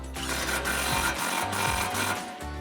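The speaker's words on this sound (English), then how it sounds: "grab our impact and socket and tighten that down" An impact wrench with socket drives an 18mm nut onto the suspension knuckle of a 2011-2023 Dodge Challenger during a coil-over install, giving a loud, continuous rapid hammering rattle close up for a few seconds.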